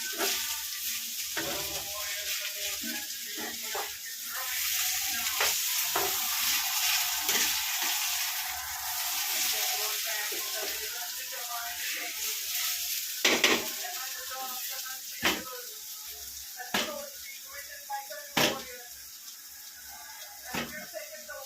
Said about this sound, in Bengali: একটা রুটি হচ্ছে আর আলু ভাজা পোস্ত হচ্ছে